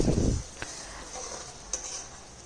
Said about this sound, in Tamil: பாருங்கள், நான் எப்படி கிண்டுறேன்னு